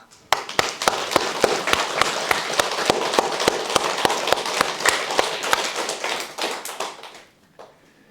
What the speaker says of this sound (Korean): 박수 한번 세게 한 20번 치겠습니다